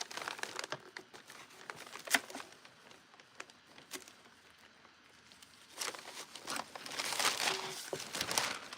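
Sheets of rice paper being handled and crinkled during a craft project upcycling cans. Close, dry crackles and rustles come in scattered bursts, building into denser crinkling toward the end.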